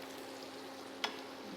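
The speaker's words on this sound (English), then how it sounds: "Now that is essentially deglazing the pan." Steaks sizzle quietly and steadily in a pan as it is deglazed with porcini mushroom sauce, with a single soft clink partway through.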